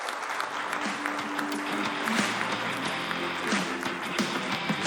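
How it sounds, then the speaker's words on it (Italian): Steady applause from a crowd, a continuous dense patter of clapping that holds at an even level throughout, with faint voices mixed in. "un applauso."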